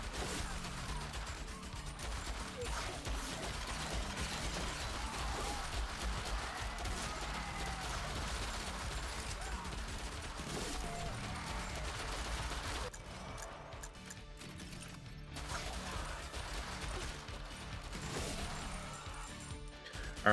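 Rapid, dense turret fire in the zombie survival game Yet Another Zombie Survivors, a constant barrage of overlapping shots and impacts that continues without a break.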